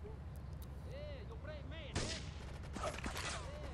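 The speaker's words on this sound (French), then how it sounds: "Il me tire dessus, hein." Enemy gunfire in GTA 3 Definitive Edition on PS5: sharp gunshot cracks arrive at about two seconds, followed by a further scatter of shots, mixed with chirping sound effects and other game noise in the background.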